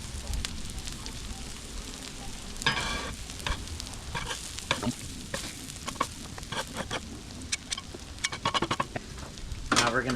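Onions sizzle on a Blackstone griddle alongside hash browns, a steady close frying crackle broken by scraping and clattering of a spatula against the flat top.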